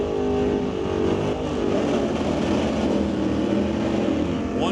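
Drag racing cars launching at Mission Raceway Park during BC Super Shifters qualifying, a 1977 Camaro against a 1964 Comet with manual shifters, giving a loud, sustained engine roar with rising revs and no talk.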